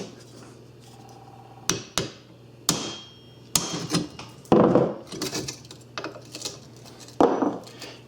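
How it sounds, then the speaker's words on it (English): A hammer strikes a 1/4 inch steel punch to drive pins out of rivets during a Ford Ranger window replacement. The metallic taps come in a loose, irregular series, some sharp and ringing, others duller, over a low steady hum. "I want to punch these pins out that's inside these rivets"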